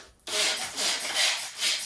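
Close, steady rubbing of wet sandpaper on a Ford Mustang Foxbody quarter window glass in several back-and-forth strokes, a soft rasping hiss that swells and fades rhythmically.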